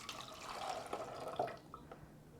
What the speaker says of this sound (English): Now, I'm going to take another 1/3 cup of vinegar and put it in my second bottle.